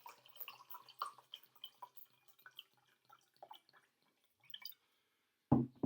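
Water poured into a glass of Ricard and orgeat gives a run of soft, uneven trickling and dripping splashes close by, fading to quiet before a louder thump at the end.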